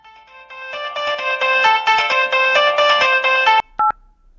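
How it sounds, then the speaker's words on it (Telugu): A mobile phone rings with an incoming call, a loud, close melodic ringtone of bright repeating notes that plays for about three and a half seconds, then stops, followed by one short beep. "ఈడొకడు కరెక్ట్గా ఏదైనా పనిలో ఉన్నప్పుడు ఫోన్ చేస్తాడు."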